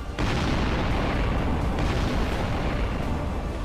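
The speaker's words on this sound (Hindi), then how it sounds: "है तो सिर्फ शोर बारूदी धमाकों का" Heavy, continuous rumbling blasts of gunpowder explosions from the Russia-Ukraine war, a dense, loud roar lasting several seconds without pause.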